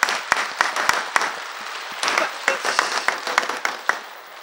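Men in a church congregation applaud women during an Easter Resurrection service, a burst of sharp individual claps giving way to sustained, fairly close clapping with rhythmic peaks.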